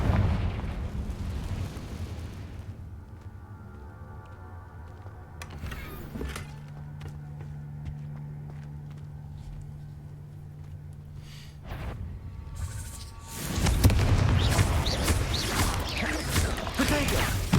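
Several booming blasts from the Confringo spell in Hogwarts Legacy, a dense burst at the start and a loud rolling barrage near the end, with lighter crackling hits and a low rumble between them.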